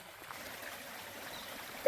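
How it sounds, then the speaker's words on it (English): Water runs steadily at a trail water source, a soft, even trickle heard from close by, with a brief louder splash right at the end. "This is a splendid water source."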